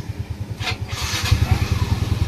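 A Yamaha Mio M3 scooter engine is started, then settles into a steady, pulsing idle, close up with a brief whir at the start.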